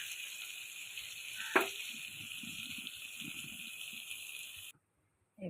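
Ridge gourd and eggplant curry base with cumin, coriander, turmeric and salt sautéing in a pan, a steady close sizzle with a sharp clink from a spoon early on, light stirring scrapes, then an abrupt cut to silence near the end.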